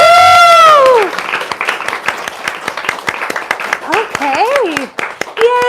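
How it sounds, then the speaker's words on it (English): An audience at a poetry book reading welcoming poets Thea and Dorothea claps steadily in a dense, sustained patter of applause with cheering, a whoop rising at the start and voices calling out over it. "another round of applause"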